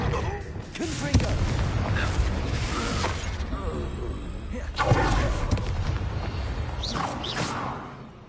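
A Confringo fire spell in Hogwarts Legacy bursts with heavy booms and thuds amid clattering game effects, two strong hits standing out over continuous rumbling action, with a voice speaking at times.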